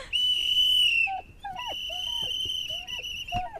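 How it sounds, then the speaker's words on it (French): A small toy whistle found in a surprise gift is blown in repeated shrill, steady toots, the first long and the later ones shorter. Squeaky yelps and cries come in between, close and fairly loud. "Il y a un petit sifflet."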